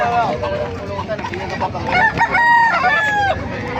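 Gamefowl roosters of the Lemon Sweater and Boston Sweater breeds crow loudly nearby, with long drawn-out calls overlapping clucking from other birds, while someone talks under the birds.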